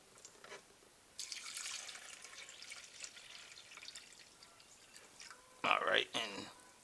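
Water is poured through a no-spill coolant funnel into a car radiator, giving a soft, steady trickle and a couple of louder splashy gurgles near the end, with faint background noise.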